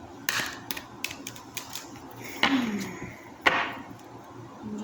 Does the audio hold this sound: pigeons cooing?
no